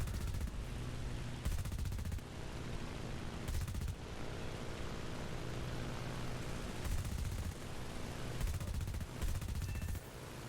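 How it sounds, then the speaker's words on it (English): Small-caliber machine guns fire in the aircraft combat game War Thunder, with sustained rattling bursts that come loud and dense over a constant engine drone, pausing briefly between volleys. "These are small caliber machine guns, you gotta fire more."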